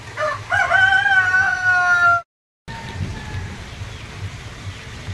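A rooster crows loudly and close by at a breeding pen, one long drawn-out call, followed after a brief gap by quieter background noise.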